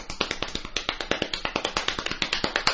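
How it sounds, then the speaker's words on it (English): A hand taps rapidly on a knee, sped up, making a dense, even string of crisp, close slaps at a brisk regular pace with no other sound around them. "So just tap that on my knee"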